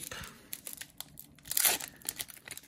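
A Pokémon Sword and Shield Darkness Ablaze booster pack wrapper is torn open, with close crinkling and tearing of foil that swells to a louder rip midway.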